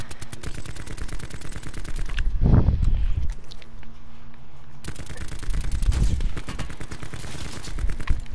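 Rapid automatic gunfire in the video game Call of Duty Black Ops 4, loud bursts of dense rattling shots with a brief pause in the middle, close and continuous, with no voices.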